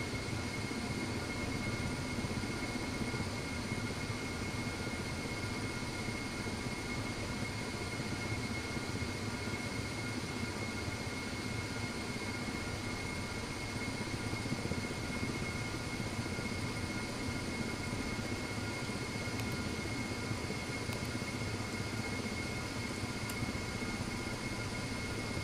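A simulated Ka-50 Black Shark coaxial helicopter hovers in the DCS flight game, a steady loud whirring turbine drone with a constant high whine and rotor rumble, continuous and unchanging, with no talk.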